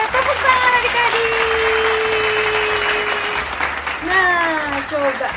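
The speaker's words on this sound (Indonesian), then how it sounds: "Tepuk tangan adik-adik." Kindergarten-age children clap together during a Sunday school service, a dense burst of applause that carries on steadily, while an adult voice speaks and sings over it, fading briefly before more voices rise near the end.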